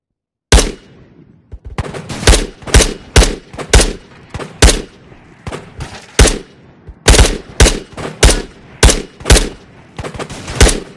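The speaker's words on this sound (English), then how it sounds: "Is that the guy that's shooting at me?" Gunfire in the video game Ghosts of Tabor: loud, close, repeated sharp shots in quick bursts over about ten seconds, with short gaps between volleys and no talking.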